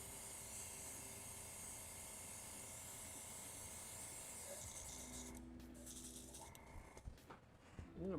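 Steady airbrush hiss spraying paint onto a 3D printed Darth Vader can cozy, continuous and fairly quiet, briefly breaking off near the end with a few small clicks and handling noises.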